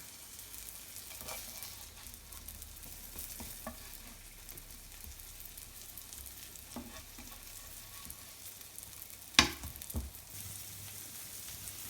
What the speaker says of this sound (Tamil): நல்லா 2 சைடும் நல்லா ரோஸ்ட் ஆகிற வரைக்கும் திருப்பி போட்டு நல்லா எடுங்க